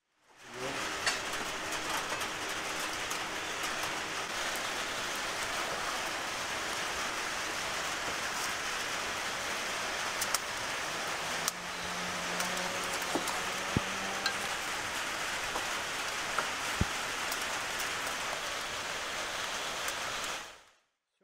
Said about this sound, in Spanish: Alan, está lloviendo